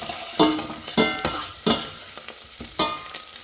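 Potatoes sautéing and being stirred in a pan for sabudana khichdi, with sharp spatula scrapes and clatters landing every second or so over a steady background sizzle.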